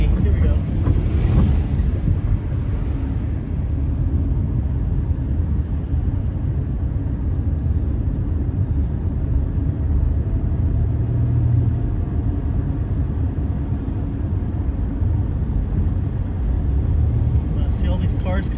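Heavy road traffic with big trucks rumbling past on Commissioners Street toward Cherry Beach, a steady loud drone with wind buffeting, a hiss of air brakes and a voice speaking over it.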